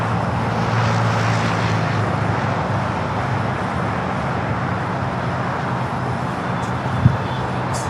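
A jet airplane taking off from runway 25 right at LAX, a broad steady engine roar heard from a distance, holding evenly throughout with a brief knock near the end.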